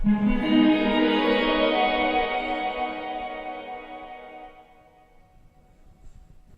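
A Strymon blueSky reverberator pedal ringing out a single sustained chord that fades into a long reverb tail, loud at first and decaying steadily over several seconds, heard alone without talk.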